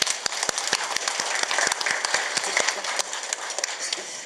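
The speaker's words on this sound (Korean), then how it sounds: "우리 응원의 박수 좀 부탁드리겠습니다" Staff at an expanded executive meeting of a district office clap for departments being recognised, a loose round of individual claps close by at a steady, moderate level.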